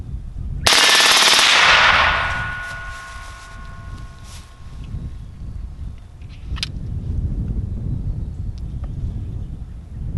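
An AR-15 in 300 Blackout with an Alamo-15 semi-auto trigger, fed from a Magpul D60 drum, fires a loud close rapid string of shots outdoors lasting about a second, then trails into wind noise and rustling with one faint later pop.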